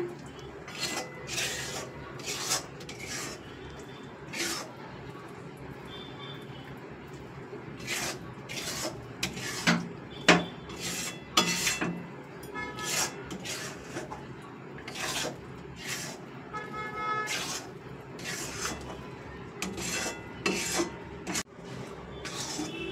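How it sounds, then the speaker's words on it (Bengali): A pantua mixture being stirred with ghee in a pan over low heat, heard as a steady series of soft scraping and rasping strokes of a utensil against the pan, with light clinks now and then. "আমাকে আরও 1 চামচ মতো ঘিটা দিয়ে দিতে হবে। আস্তে আস্তে কম আঁচে দিয়ে নাড়তে হবে।"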